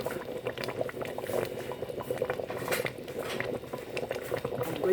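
Egusi soup boils in a covered pot, a close, continuous bubbling and popping with a soft steady hiss and no voices.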